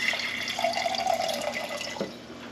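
Water running from a tap into a container to soak sprouts, a steady close splashing and trickling stream that tapers slightly toward the end.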